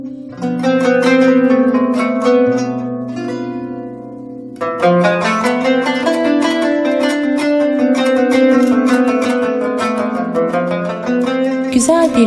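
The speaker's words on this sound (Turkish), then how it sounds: "şu an duyduğunuz kanun taksimiyle başlayıp daha sonra parçaya gireceğim" A kanun zither plays a free, improvised taksim of plucked melodic lines in Turkish classical style, bright and sustained, loud and close, with no voices.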